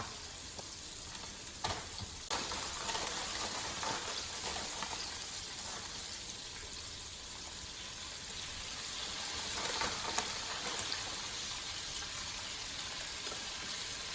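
Rattlesnake pieces fry in hot oil, giving a steady, dense sizzle that holds evenly throughout, with a few faint clicks and no voices.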